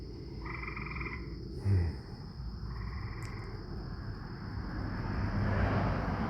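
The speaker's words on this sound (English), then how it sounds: "Can you hear the peepers? The peeper frogs?" Spring peeper frogs calling by a small garden pond, a high steady chorus of peeps running throughout, with some nearer trilling bursts and a low outdoor rumble beneath.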